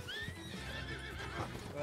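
In the Red Dead roleplay game, a horse gives a loud whinny with a rising and falling neigh lasting about two seconds. Its hooves clop close by.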